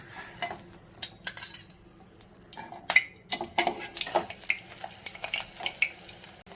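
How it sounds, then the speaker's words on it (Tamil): Hash brown frying in a pan, soft sizzling under scattered clinks and scrapes of a utensil against the pan, irregular and close, with no talking. "இப்போ இது பார்த்தீங்க அப்படின்னா நல்லா கோல்டன் கலரில் ஃப்ரை ஆயிடுச்சு"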